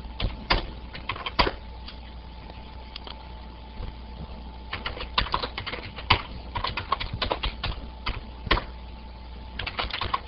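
Typing on a computer keyboard, bursts of rapid close clacking keystrokes with short pauses between runs, alone without voices.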